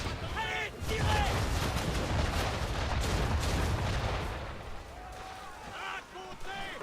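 Ship cannons fire in Assassin's Creed 3, heavy booming blasts rolling together into a long rumbling volley, with shouted voices in between.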